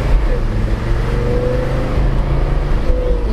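A classic Mercedes-Benz engine pulls hard at full throttle, a loud, continuous low droning roar with rising tonal lines, heard from inside the car.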